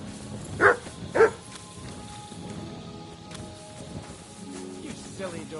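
Two sharp dog barks from the video game Kingdom Come Deliverance 2 sound in quick succession near the start, fairly close, followed by quieter game ambience and faint background talk.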